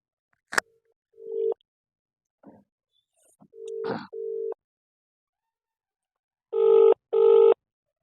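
A phone call goes out: a short click, then a series of electronic ringback or busy-type tones, a few isolated beeps, and two long evenly spaced tone bursts near the end, loud and clear with quiet gaps between.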